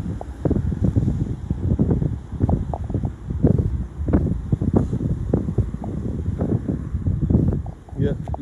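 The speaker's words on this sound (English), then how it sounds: "And it's quite windy, as you can tell by the Jaywick wind indicator tree." Strong wind gusts through a tree at Jaywick, a steady close roar with buffeting bursts and rustling that rise and fall continuously for the whole stretch.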